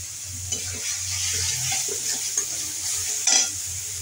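Ground cumin masala fries straight in a hot pan with a steady hiss, as a spatula stirs and scrapes in a few soft strokes and one sharper knock, close up with no voices.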